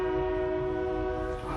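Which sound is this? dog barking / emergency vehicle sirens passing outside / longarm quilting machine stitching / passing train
passing train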